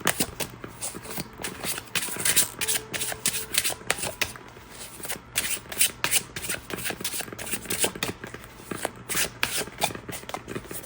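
Playing cards being shuffled close up in repeated quick riffles and rustles, with brief pauses between bursts and no talking.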